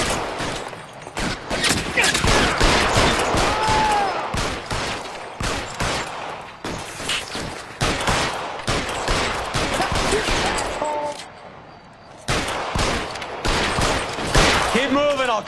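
A heavy, sustained exchange of gunfire in an L.A. Noire police shootout, rapid overlapping shots and ricochets that carry on almost without pause, with shouted character voices in between and a short lull near the end.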